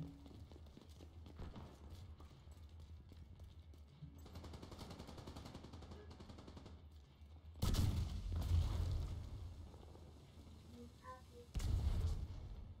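A sticky bomb blowing up in a video game, two loud broadband blasts, one midway and one near the end, each rolling off into rumble, over scattered quieter game gunfire and low background noise.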